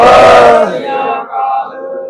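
A crowd at a farmers' union meeting in a Punjab village roars the Sikh jaikara response in one loud massed shout that fades out over about a second.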